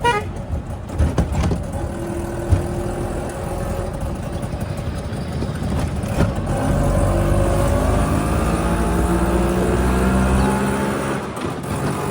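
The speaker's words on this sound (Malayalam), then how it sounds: "ഈ ഓട്ടോയുടെ ശബ്ദം കേട്ടോ, നല്ല രസമാണ്." A motorised auto-rickshaw near a railway station in a Gujarat town runs steadily, its engine droning close with passing traffic noise and a brief horn toot around it.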